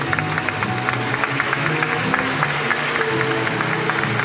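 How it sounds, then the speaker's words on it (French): Audience applause at a season presentation evening, a dense steady wash of many hands clapping throughout, with a faint murmur underneath. "Vous pouvez les applaudir."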